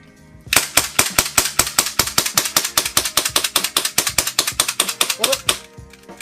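A Maruzen Walther P99 gas blowback airsoft pistol fires a fast string of about thirty sharp mechanical cracks, close and loud, for roughly five seconds until it stops at slide lock.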